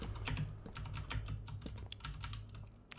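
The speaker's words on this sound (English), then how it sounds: "I also really apologise for my keyboard. I am trying to find solutions to get it quieter." Loud, clacky computer keyboard typed on in a rapid, uneven flurry of close keystrokes during Minecraft play, with no talk.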